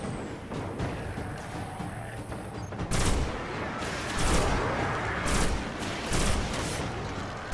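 Rapid bursts of gunfire from the video game Destiny, several loud volleys after a quieter stretch, with a voice talking in the background.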